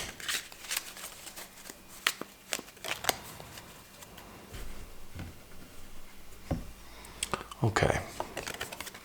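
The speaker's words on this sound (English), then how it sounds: "Just going to give these a shuffle for a bit." Crisp riffling and soft slaps of cards being shuffled repeatedly, close by, in irregular bursts against a quiet room.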